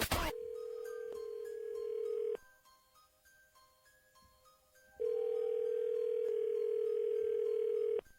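Telephone dial tone before a three-way call, a steady electronic hum that cuts off for a few seconds, leaving a faint background, then resumes at the same pitch and holds to the end.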